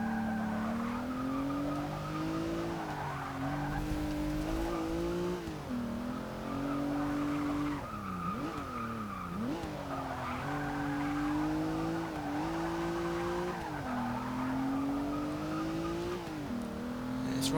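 A 2016 Rolls-Royce Dawn in Forza 6 drones with a steady engine note that rises and falls through gear changes, with tire squeal layered over it as it corners, continuous and fairly close.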